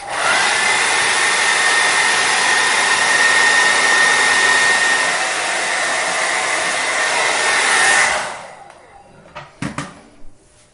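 A handheld hair dryer blows steadily and loudly while drying hair, a constant whooshing roar for about eight seconds before it shuts off, followed by a few brief handling clicks and knocks.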